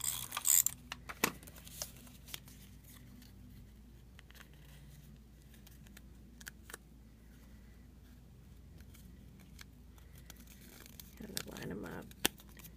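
Cardstock pieces for a handmade cupcake card being pressed and stuck together, giving quiet, sporadic paper rustles, crinkles and small taps close by, with a brief louder scrape near the start and a fuller burst of rustling near the end.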